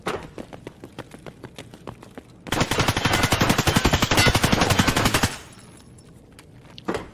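An automatic weapon in Escape from Tarkov empties its magazine on the Factory map, a sustained loud burst of rapid shots after a few scattered single reports.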